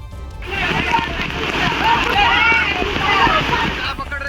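Floodwater rushes over the Dugarwadi waterfall near Nashik during monsoon flooding, a loud, steady broadband roar and slosh that swells in and holds for several seconds, with a voice talking over it.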